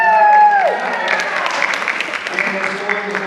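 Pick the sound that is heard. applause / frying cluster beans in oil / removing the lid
applause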